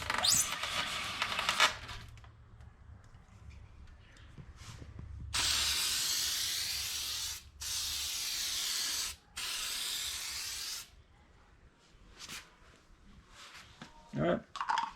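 Aerosol clear coat sprayed onto a car headlight lens in several steady hissing bursts, each a few seconds long with short gaps, close and loud, alongside brief handling noises and talk before and after.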